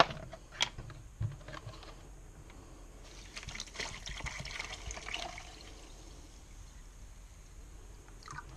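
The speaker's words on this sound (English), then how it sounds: "Fill it up with water." Water runs into a container already holding a good amount of kosher salt, mixing a very salty etching solution; a soft, faint trickle and gush with a few small knocks, quiet and close, with no talking.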